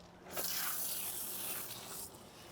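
Koch Chemie Green Star cleaner is sprayed during car detailing on an F80 M3, a single sustained hissing burst of about two seconds, close and fairly soft, with no talk over it.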